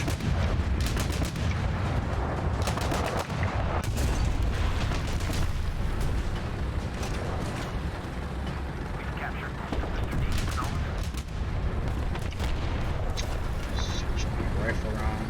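Heavy rifle rounds and battle fire in War Thunder ground and air combat, a relentless loud barrage of cracks and booms with constant rumble, mixed with talk.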